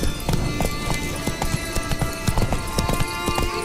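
Roach, a horse in the video game Witcher 3, gallops with a steady, rapid clip-clop of hooves, loud and close, with occasional snorts and no voices over it.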